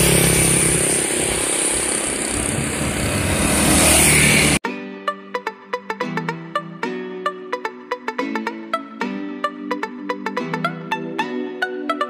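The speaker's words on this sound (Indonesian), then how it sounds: "Nah, mobil komandannya." A commander's car engine gives a loud, dense roar for a few seconds near the start, then cuts off abruptly as plucked, ringing musical tones take over.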